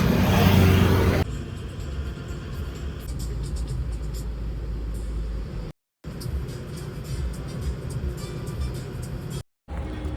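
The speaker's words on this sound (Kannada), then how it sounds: "ನೋಡ್ರಿ, ಈ ರೋಡಲ್ಲಿ ಗಾಡಿ ಜಾಸ್ತಿ ಅನ್ಸುತ್ತೆ ಮೋಸ್ಟ್ಲಿ." Heavy vehicle traffic on a road on a trip to Rameswaram, with a steady rumble of passing cars, buses and trucks and engines revving close by, loud and continuous apart from two brief dropouts, with faint voices underneath.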